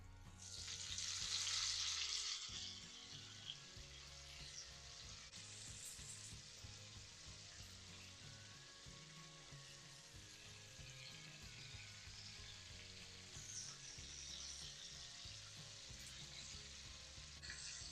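Lemon butter sauce for halibut sizzles softly in a skillet while being stirred, a quiet continuous frying hiss with a brighter spurt early on and faint utensil scraping.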